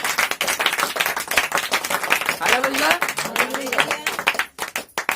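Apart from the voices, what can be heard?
congregation clapping hands for God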